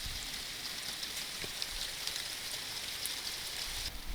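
Heavy rain pours steadily at night during a thunderstorm, a dense even hiss of drops on surfaces with occasional sharper splashes, moderately distant and without voices.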